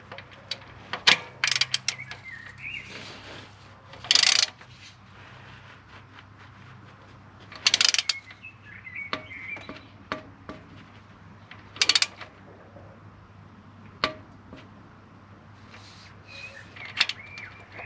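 Bolt being tightened by hand on a 1995 Jaguar XJ6, heard as several short bursts of ratchet clicking spaced a few seconds apart, with soft tool handling in between over a low steady hum.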